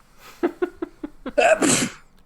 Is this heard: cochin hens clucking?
no